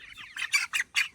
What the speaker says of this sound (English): This one right here is a rooster.